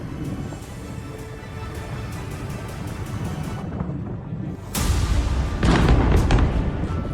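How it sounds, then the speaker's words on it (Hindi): Heavy, rumbling booms of bunker-buster bomb explosions at Isfahan, Iran, over a continuous low roar, with a sharp loud burst near the end followed by more blasts; distant-sounding and powerful. "इस हमले के बाद पूरे इलाके में जबरदस्त धमाकों की गूंज सुनाई दी।"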